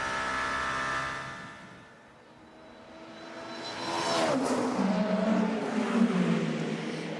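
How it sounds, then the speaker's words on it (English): A race car at the 2023 6 Hours of Monza brakes into the Alboreto curve and accelerates through the final corner, its engine note falling away, then surging back loudly in a rising roar as it passes near. "on the brakes into that Alboreto curve, and feathering the throttle, just picking it back up, round that final corner he comes"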